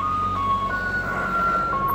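A vehicle on a street plays a steady electronic Happy Birthday melody through a loudspeaker, the tinny tones continuing over a low rumble of road noise.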